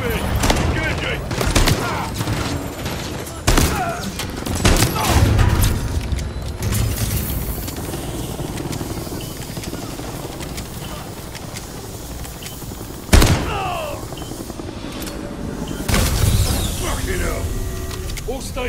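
Gunfire in Call of Duty Modern Warfare 3 aimed at a helicopter: dense bursts of shots and heavy booms, loud and close, with one sharp blast partway through, mixed with voices talking over the fighting.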